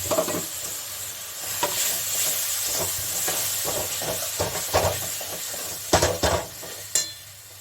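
Water poured into coriander and cumin powder frying in a pan brings a steamy hiss and sizzle, broken by repeated scraping stir strokes and a few sharper clatters near the end, close up and with no voices.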